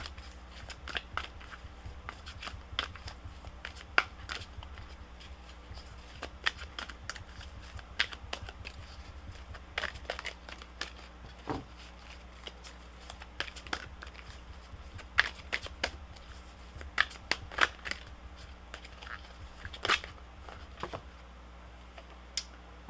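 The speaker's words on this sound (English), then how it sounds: "So let me shuffle these again for Cancer." Tarot cards being shuffled by hand, a steady stream of soft crisp riffles and snaps close up over a low room hum, with no talking.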